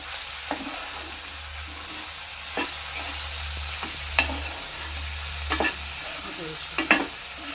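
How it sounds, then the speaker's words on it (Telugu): Okra (bhindi) frying in a pan for a South Indian garelu pulusu, a steady soft sizzle broken by scattered clinks and scrapes of a spoon stirring, no voices. "ఫ్రై అవుతుంది"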